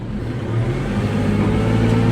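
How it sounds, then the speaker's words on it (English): A new, fairly large tractor plowing snow, its engine droning steadily and loudly up close with a low, continuous rumble and slight rises in effort throughout. "this new tractor does work quite nicely to plow."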